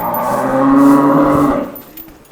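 A Nili-Ravi buffalo lets out one long, loud, deep lowing call close by, fading at the end, with no voices over it.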